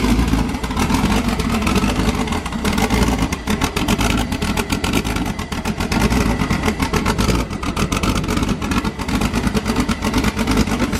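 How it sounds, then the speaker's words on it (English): A newly fitted turbo engine started with no exhaust: a loud, raw engine roars steadily throughout, rumbling and buzzing without pause. "All right, first start, new turbo, no exhaust."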